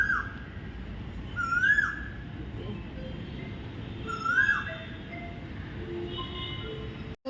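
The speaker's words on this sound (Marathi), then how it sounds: "ती कोकिळा वरती" An Asian koel calls from somewhere overhead, three rising whistled notes spaced a few seconds apart, moderately distant, over a low steady background rumble.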